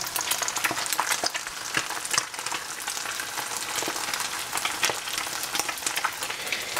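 An egg fries in a pan with a continuous close crackle and sharp, scattered pops throughout, and no voices.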